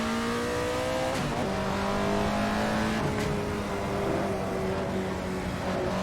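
The engine of an Alfa Romeo 33 Stradale in the racing game Assetto Corsa drones and revs steadily, pitch rising and falling through gear changes on a lap, with no talk over it.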